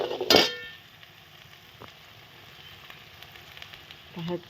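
Drumstick pods drop into a hot pan with a sharp, loud burst of sizzle right at the start. A faint, steady fry follows, with a brief clatter near the end.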